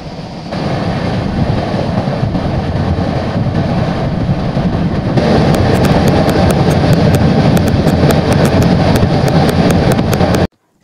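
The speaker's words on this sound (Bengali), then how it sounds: "এখন আমাদের ট্রেনটা ঢুকছে নিউ ফারাক্কা, আর এখন ফারাক্কাতে দাঁড়িয়ে আছে ট্রেনটা" A passenger train rolls into New Farakka station, a loud continuous rumble and rattle of the carriages with rhythmic clicking from the rails in the second half, heard close from inside the coach without talking.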